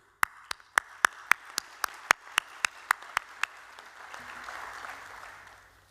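About fourteen sharp, evenly spaced claps ring out loudly at an honorary fellowships ceremony, then give way to a softer, diffuse patter of audience applause that continues with a low rumble underneath.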